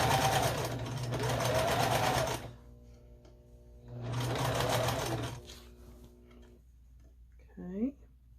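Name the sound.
sewing machine stitching a string quilt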